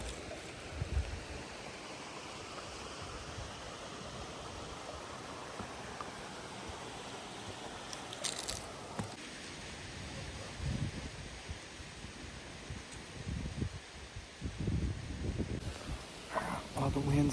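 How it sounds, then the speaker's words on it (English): Strong wind blows across a wooded ridge during a hunt, a gusty rushing noise that swells and buffets the microphone, with a person talking over it. "it's super windy up here."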